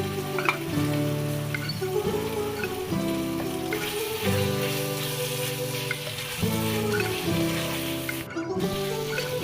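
Beef pepper fry sizzles steadily in a pan while being stirred dry, a continuous loud frying hiss with periodic scraping strokes and a brief clatter near the end.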